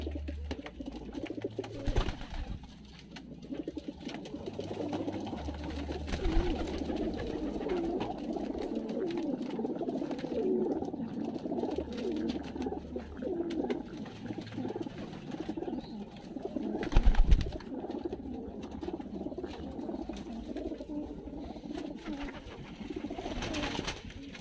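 Plain white pajer pigeons coo steadily in a loft, a dense, continuous chorus of low throaty burbling from several birds, with a few louder bumps and flutters.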